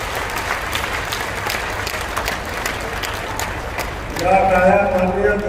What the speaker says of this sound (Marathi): या टाळ्या माननीय देवेंद्र फडणवीस साहेबांच्यासाठी आहे